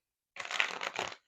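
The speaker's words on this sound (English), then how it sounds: "This is the last shuffle right here." Tarot cards get one quick riffle shuffle, close and crisp, a single burst of papery flutter under a second long, with no talk over it.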